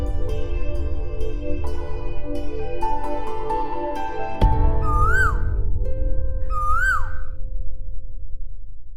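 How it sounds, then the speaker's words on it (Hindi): An Asian koel calls twice, clear rising-falling whistled notes standing out near the end, following scattered clicks and a sharp knock over steady background noise. "कोयल वापस आ गई।"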